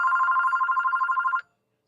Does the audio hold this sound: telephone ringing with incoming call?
yes